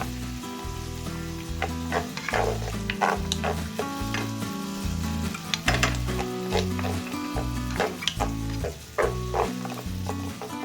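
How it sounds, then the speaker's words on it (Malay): Diced onion stir-fried in a pan for murtabak, a steady sizzle broken by repeated scraping and clacking of a spatula against the metal, close and continuous with no voices. "Sambung tumis lagi sehingga bawang Holland tadi betul-betul masak."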